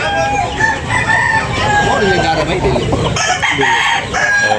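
A rooster crows loudly and close by at a busy cockfighting-bird market in Tabunok, Talisay, Cebu, with clucking fowl and an outdoor crowd murmuring around it.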